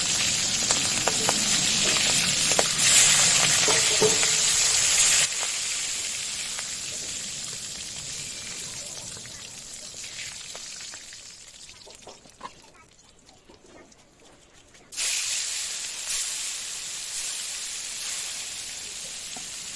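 Fish frying in hot oil, a loud, steady sizzling hiss that drops away midway, returns abruptly near the end, and runs under occasional clinks and a voice talking.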